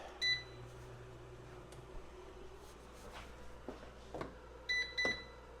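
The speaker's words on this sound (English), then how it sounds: "I'm going to set the timer for another 5 minutes." A kitchen timer is set with a short electronic beep near the start, soft kitchen handling noises follow, then a few more quick beeps toward the end, all close and fairly quiet.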